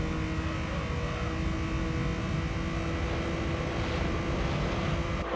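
A Nissan Skyline's engine drones in the racing game Gran Turismo 3 on PS2, a steady, sustained mechanical hum with a faint rise in pitch toward the end, heard alone without talk.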